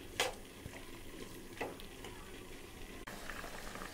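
Taro pieces fry in a ginger, garlic and onion paste in a pan, giving a steady low bubbling sizzle with a few faint clinks of a utensil, and no one talking.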